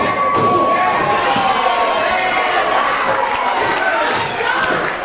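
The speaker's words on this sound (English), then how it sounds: "The crowd here in the Pro Wrestling Star Academy energizing Pat Dynamite" Wrestling crowd cheering and shouting at a Pro Wrestling Star Academy live show, a loud, steady roar of voices filling the hall throughout with a sustained whistle-like tone over the noise.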